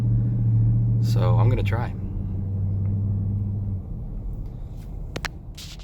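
A 2018 Dodge Durango SRT idles with a deep, steady engine and exhaust rumble, loud and close, while someone talks over it before the drone eases slightly lower.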